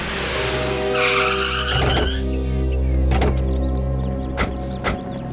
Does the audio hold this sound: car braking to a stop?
yes